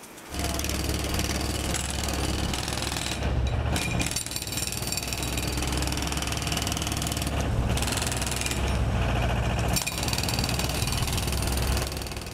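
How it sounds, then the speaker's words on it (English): A pneumatic breaker breaking up courtyard paving, a loud, continuous hammering roar close by that carries on almost without pause and thins briefly a few times. "I came across an operative using a pneumatic breaker."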